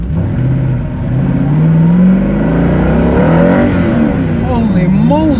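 A Mosler MT900S supercar approaches fast, its engine note rising and swelling as it nears, loud and continuous with a whirring, revving tone.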